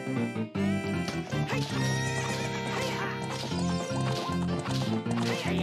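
Horse neighing and galloping in the Zelda: Ocarina of Time video game during a ranch race, a loud whinny over dense game music with steady hoofbeats running throughout.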